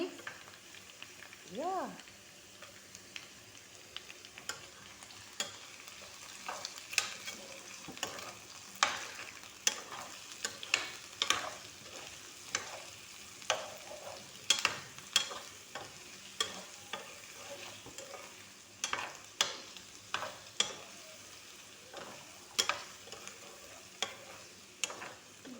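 Spicy chicken liver frying in a pan, stirred with repeated scraping and clicking strokes over a low sizzle, fairly close, with occasional talking over it.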